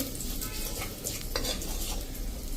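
Fenugreek leaves sauté in a pan with a steady, loud sizzle, while a utensil stirs and scrapes against the metal now and then, close up, with no talking.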